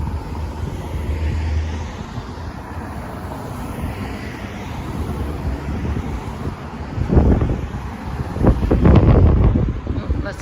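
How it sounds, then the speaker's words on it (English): Wind buffets the microphone outdoors on a spring street at Portage Avenue and Wolseley, a steady rumbling blow that surges into heavy, loud gusts near the end; no one speaks. "Get out of that wind."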